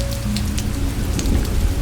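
Steady rain falls on a Japanese bamboo forest beside a train, a dense, even wash of drops with no voices, heavy and close throughout.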